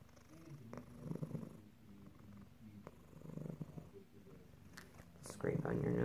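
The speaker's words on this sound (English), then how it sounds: "She's got a big purr." A cat lying in a lap purrs with a big, low rumbling purr in soft repeated waves, fairly quiet and close, with a brief louder sound near the end.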